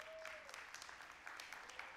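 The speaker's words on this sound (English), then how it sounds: "Please join me in giving a huge round of applause for our principal, Cole, and her incredible staff." Audience at a high school graduation ceremony breaks into steady applause, a dense patter of many hands clapping at moderate distance in a large venue.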